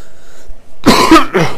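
A person with flu and fever coughs and clears the throat once, a short harsh burst followed by a second smaller rasp, close and loud after a quiet moment.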